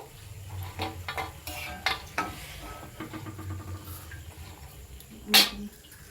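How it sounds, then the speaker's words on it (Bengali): Crackling sizzle of thin jalebi batter frying in hot oil, with occasional clinks and stirring scrapes and one sharp metallic tap near the end. "বাকি সব জিলাপিগুলো কিন্তু আমি সরু সরু করে কিন্তু ভেজে নেব"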